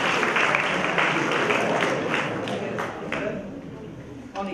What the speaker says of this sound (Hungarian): Szuper, gyere nyugodtan, nagy tapsok neki!